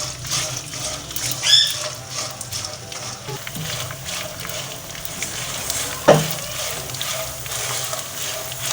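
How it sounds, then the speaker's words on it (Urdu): Edible gum (gond) frying in hot ghee, a steady close sizzle and crackle with light stirring and a sharp clink of a utensil partway through. "اب میں نے یہ گوند فرائی کرنا ہے، تو اس کے لیے مجھے تیل ڈالنا پڑے گا، اس میں گھی۔"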